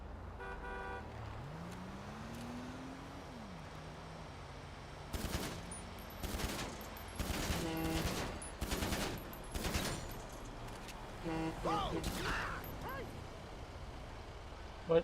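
AP pistol fire in the FiveM game, several sharp bursts of rapid shots coming in uneven clusters over a vehicle's engine drone, with a horn toot early on.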